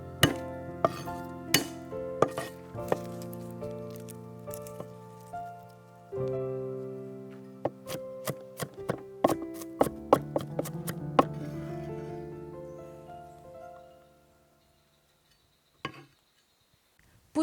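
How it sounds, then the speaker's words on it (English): Knife chopping garlic cloves on a board for a beef and oyster sauce stir fry, a run of sharp close taps that quickens in the middle, then fades out, with a few isolated knocks and no talking. "chop 5 cloves of garlic"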